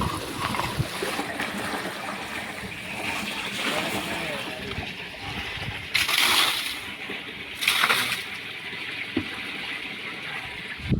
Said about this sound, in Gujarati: અત્યારે જો અહીંયા આપણે ટાંકો ખાલી કરી રહ્યા છીએ